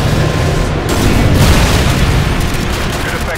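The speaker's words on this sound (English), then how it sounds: "EDM missiles online." EDM missiles strike in a video game, a loud, continuous roar of explosions with one sharper blast that swells and rolls on without a break.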